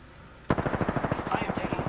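Rapid automatic gunfire in a shooter video game starts abruptly and rattles on in a fast, even burst of close shots, with a voice talking over it.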